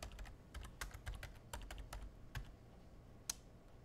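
Quick bursts of typing on a computer keyboard, irregular key clicks close by with one louder tap near the end, quiet with no talk.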